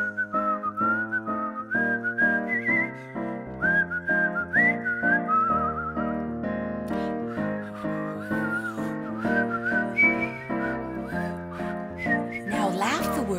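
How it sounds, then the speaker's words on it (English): A person whistles a lively tune alone, bright melodic notes rising and falling over a steady rhythmic accompaniment. "Now whistle the words."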